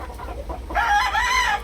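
A Maclean Hatch gamefowl rooster, 16 months old, crows once loudly and close by, the call rising after a brief low cluck in a backyard.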